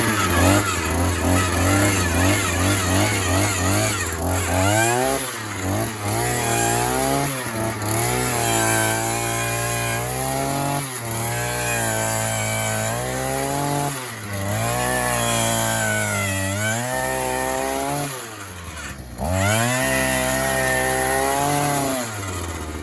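Gas-powered earth auger's two-stroke engine running on 25:1 fuel mix, loud and close, with repeated throttle surges and dips as the bit bites into the ground, steady without stalling.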